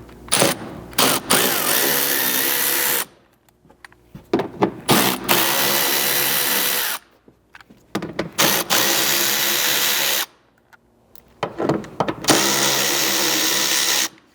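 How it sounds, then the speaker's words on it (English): Socket ratchet with a 10mm socket backing out mud flap screws on a second-generation Toyota Sequoia, heard as close, repeated bursts of rapid clicking separated by short pauses. "So for these, again, you need that 10mm socket."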